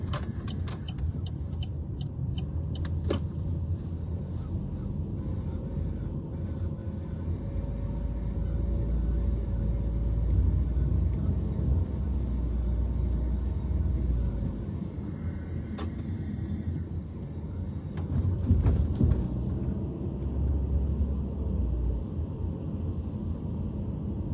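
Cars pass along a city street at night, a steady low traffic rumble that swells and recedes over the stretch, with occasional sharper passing noises and no talk.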